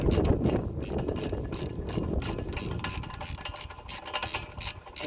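A ratchet wrench works loose a brake caliper slider bolt on a Volkswagen Golf, giving fast, close, steady clicking pawl bursts throughout with brief pauses between strokes.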